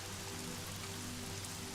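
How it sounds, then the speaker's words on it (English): Steady rain ambience plays as background during a tabletop role-playing session, a soft continuous patter with a low hum beneath it and no talking. "You hear the rain, you look out"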